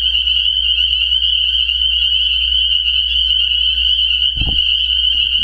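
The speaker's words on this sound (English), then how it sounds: "I'm just trying to show you how loud these frogs are." A loud, continuous chorus of frogs croaking and trilling in a steady high drone, with a brief low thump near the end.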